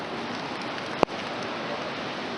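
Steady rain patters on a campsite at 8,500 feet in the mountains, a constant hiss broken by one sharp tap partway through.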